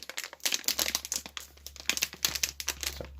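A trading card booster pack torn open by hand without scissors, bursts of crinkling and ripping foil in quick irregular pulls, close to the ear with no talk.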